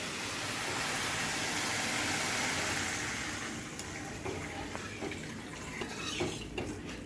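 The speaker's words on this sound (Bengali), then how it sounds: "আমি জল দিয়ে দিচ্ছি" Water poured into a cabbage dhoka dish in a pan, a steady rushing splash for about three and a half seconds, then quieter sizzling with scattered light clinks; no voices.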